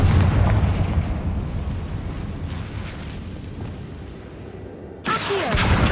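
A Confringo fire spell in Hogwarts Legacy detonates with a heavy rumbling blast that slowly fades over several seconds. A second sharp burst follows near the end.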